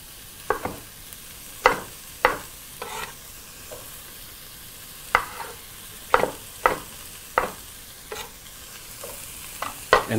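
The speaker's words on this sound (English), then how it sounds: "And proceed to mix everything together, of course frying everything at high heat." Tomatoes stirred and fried at high heat in a pot for a Kenyan matoke in groundnut sauce: repeated scraping stir strokes at an uneven rhythm over a steady close sizzle, with no talking.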